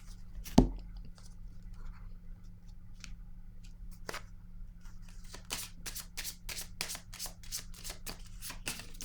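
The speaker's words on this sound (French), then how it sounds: "Je vais piger une autre carte." A deck of playing cards is shuffled in quick riffling bursts, the crisp flutters repeating rapidly through the second half after a single sharp tap near the start, close and fairly quiet over a low steady hum.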